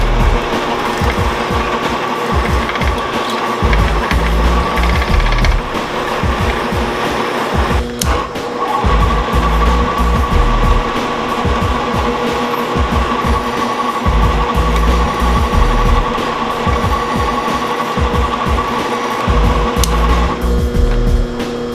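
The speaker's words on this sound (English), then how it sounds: "now I'm drilling the holes" A power drill whirs steadily and continuously while drilling mounting holes for a supercharger pulley setup on a 302 V8 engine, briefly dipping once partway through, with no talking.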